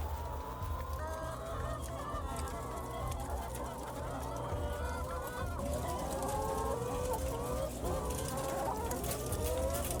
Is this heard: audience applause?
no